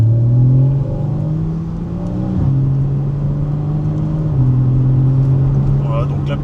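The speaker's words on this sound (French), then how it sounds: "On va accélérer un petit peu, on va mettre un peu de rythme." A Porsche 981 Cayman with a PDK gearbox accelerates on the road, its engine a loud, close, rising drone that drops in pitch at each quick gear shift, with a voice talking over it.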